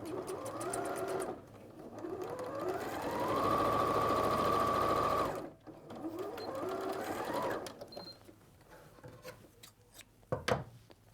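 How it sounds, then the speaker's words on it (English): A sewing machine stitches a straight line across fabric seams in bursts: fast, whirring runs that speed up to a steady high whine, stop, then start again, close up with small handling clicks in between. "just match them up and then sew across"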